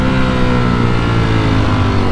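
A Ducati Panigale V4S motorcycle engine revs hard and close, a loud, steady mechanical roar with dense low harmonics sustained throughout, no voices.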